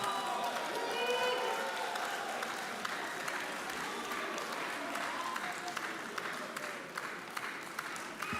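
Audience applause at a Lagos Business School executive education graduation ceremony, a steady wash of many hands clapping through the hall with faint voices mixed in, fairly even in level from start to finish.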